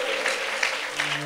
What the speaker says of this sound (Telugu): చప్పట్లు కొట్టండి మన పిల్లల కొరకు.